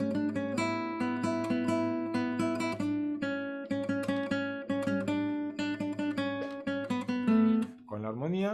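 Strummed guitar playing a chamamé introduction drawn from the final eight bars of the B section of a piece, steady rhythmic chords ringing clearly and alone, ending with a slide into a new chord.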